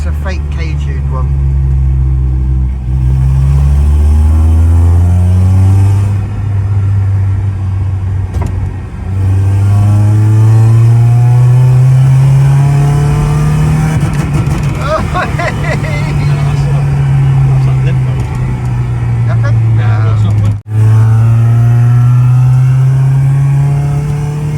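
A K-swapped Honda Civic engine is heard from inside the car, loud and close, rising and falling as it accelerates and shifts through gears for about twenty-five seconds, with people talking over it.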